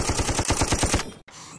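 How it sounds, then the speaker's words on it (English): Rapid volleys of gunfire from hunters out shooting haggis during the haggis season, about nine loud close shots in quick rhythm over roughly one second, then a brief cut and a quieter tail. "When I can get out and shoot the little beauties."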